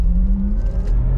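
A Porsche Taycan 4S electric car accelerates hard with a low, steady whir and rising drive hum heard from inside the cabin, no voices for the brief moment.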